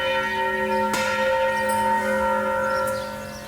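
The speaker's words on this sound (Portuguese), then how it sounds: "E lá já começa o horário de sino às 7 horas da manhã" Church bells ring out from a cathedral tower on a Sunday morning, a steady sustained peal with a sharp strike near the start and long resonant tones ringing on, loud and continuous.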